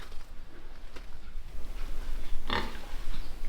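Pigs in a pig barn grunt and snort over steady background noise, with one louder, sharper burst of squealing near the middle.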